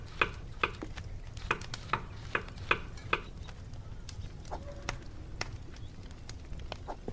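Tomatoes dropped into a pot in the Kebab Chefs restaurant simulator game: a run of sharp, evenly spaced clattering thuds in the first few seconds, then scattered lighter clicks over a faint kitchen hum.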